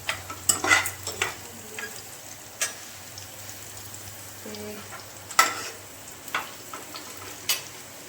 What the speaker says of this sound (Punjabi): ਇਧਰ ਮੈਂ ਤੜਕਾ ਲਾ ਰਹੀ ਸੀ